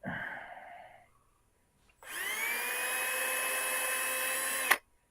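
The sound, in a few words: power drill drilling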